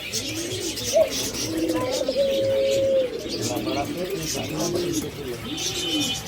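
Birds at a pet bird market selling quail, lovebirds and pigeons call steadily: cooing pigeons and chirps, with a sustained tonal note, over a busy background with voices.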